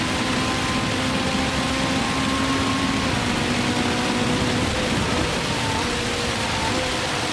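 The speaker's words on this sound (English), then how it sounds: "Please, rain, stop." Steady rain falls on the Le Mans circuit in the racing game Gran Turismo 7, a constant dense hiss with faint engine tones humming underneath and no voices.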